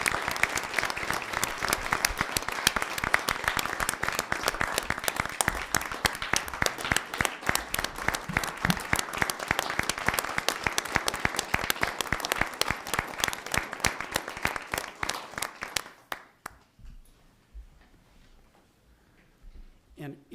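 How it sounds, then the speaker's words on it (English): Sustained audience applause fills a city council meeting chamber, dense and steady for about sixteen seconds before fading out into quiet room tone. "would everybody please join me in another round of applause for Carlos and his family."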